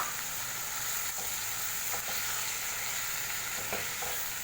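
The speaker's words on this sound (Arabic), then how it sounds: "الرز ياخد تشويحه معاهم" Washed rice is sautéed and stirred in a pot with bay leaves, seven spices and salt. It gives a steady, dense sizzle with faint scraping stirs, and there is no talking.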